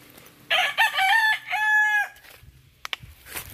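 A rooster crows at a chicken coop in a rural provincial backyard: one loud, close, drawn-out crow, followed by faint scattered farmyard noises.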